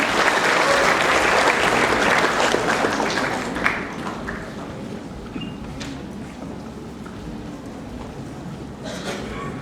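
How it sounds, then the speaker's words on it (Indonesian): An audience applauds for Sony Sugema at a morning gathering, a dense burst of clapping that starts loud and gradually thins and fades over several seconds. "kita beri aplaus buat Bapak Sony Sugema"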